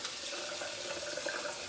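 Steady running water from a tap filling or washing in a sink while rinsing after a shave, continuous and fairly loud with slight splashing variations, no voices.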